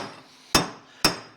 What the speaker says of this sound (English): once I get to the bottom, I tap it all the way around.